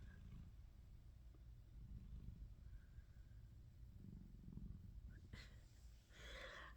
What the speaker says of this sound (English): This one just purrs in his sleep all the time.